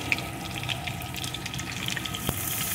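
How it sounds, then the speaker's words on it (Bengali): Eggplant pieces frying in a pan alongside Malabar spinach stalks, giving a steady, close crackling hiss with a brief sharper click near the end. "আমি তাড়াতাড়ি রান্নার জন্য আমি এক ফোড়নে দিয়ে সব একে একে সবজিগুলো একটু ভেজে নিচ্ছি"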